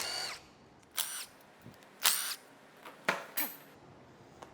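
A power tool zips bolts off a Danfoss OMT 400 hydraulic wheel motor on a Case 1840 skid steer, firing five short, loud, close bursts separated by quiet gaps and faint metallic clinks.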